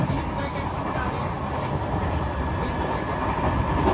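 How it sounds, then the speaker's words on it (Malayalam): Inside a Patna Express train running above 100 km/h, a dense, continuous rumble of wheels and carriage noise fills the space, steady and close, with a voice speaking over it. "ട്രെയിൻ ഇപ്പം 100 km/h സ്പീഡിന്റെ മുകളിൽ പോവുക."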